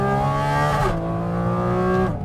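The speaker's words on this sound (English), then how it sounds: "I'm gonna go down 3 gears right now" A Porsche GT4 RS with PDK drops through gears, the engine's loud, steady droning tone stepping up in pitch at each downshift, close and harsh inside the cabin with no talk over it.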